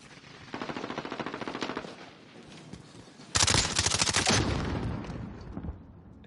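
Rapid automatic gunfire from a first-person shooter esports match, one burst early then a louder, denser volley of shots midway that trails off, with no talk over it.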